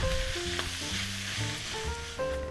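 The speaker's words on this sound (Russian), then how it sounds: "на сковороду вместо нее отправлю перец, красный лук и чеснок" Peppers, red onion and garlic sizzle in a frying pan, a continuous close crackling hiss with light stirring, accompanied by a tonal melodic background.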